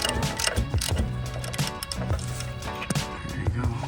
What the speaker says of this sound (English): gonna start loosening up this bolt right here